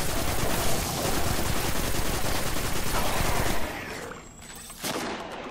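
Rapid gunfire crackles loudly and almost continuously during a tank mission in the shooter game Destiny 2, then cuts off abruptly, leaving a quieter stretch before one more burst.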